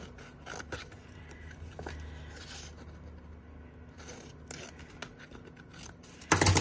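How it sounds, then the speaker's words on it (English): Scissors cutting out a paper piece for a journal page, a string of soft close snips and light rustling scrapes at an uneven pace, ending in a louder crinkle of handled paper. "Just going to cut it out with some scissors."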